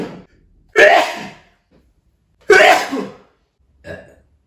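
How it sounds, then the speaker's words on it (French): Two loud close sneezes from one person, each a sharp burst with a short breathy tail, followed by a smaller third sniff-like exhale, with silence between. "Alors moi j'éternue"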